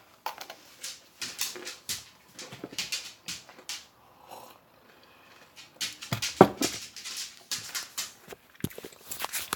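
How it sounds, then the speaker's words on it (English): A dog moves around indoors nearby, producing a quick series of soft patters, thumps and clicking taps from its paws, with brief gaps and a sharper clatter midway, fairly close and moderately loud. "Sorry if you hear dog jumping and stuff and eating."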